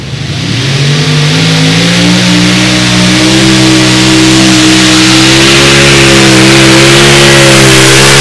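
A pulling tractor at the Edewecht Tractor Pulling Euro Cup roars through its run, a very loud, continuous engine howl that climbs in pitch at the start and then holds high and steady for several seconds.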